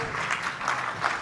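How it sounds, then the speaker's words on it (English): A round of applause for a patient after a chiropractic session, moderate clapping with a few louder swells, voices faintly mixed in beneath it. "Give them a round of applause."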